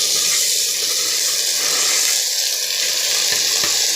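Soaked lentils hit hot oil in a frying pan with a loud, continuous sizzle close up, steady throughout with no talking.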